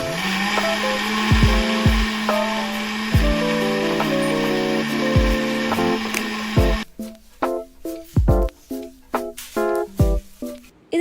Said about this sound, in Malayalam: ഞാൻ കലക്കല്ല, മിക്സിയിലിട്ട് അടിക്കുകയാണ്